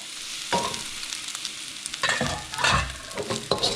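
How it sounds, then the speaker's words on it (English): A poached egg is stirred into sizzling beef short rib fried rice in a hot pan, with a spoon scraping and clacking in short bursts over a steady frying hiss, close and alone. "Stir it up to mix it and break it apart."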